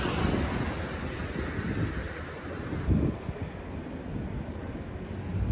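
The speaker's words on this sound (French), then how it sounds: "Il y a du vent qui chie." Steady wind rushes and buffets against the microphone outdoors in Brittany, a continuous broadband roar with no voices.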